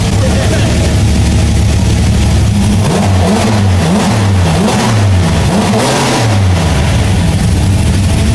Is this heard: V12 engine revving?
yes